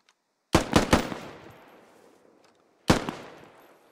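Gunfire in squad fire-and-maneuver training, likely from a video game: a quick burst of three sharp shots with ringing decay, then a pause and one more loud shot echoing away.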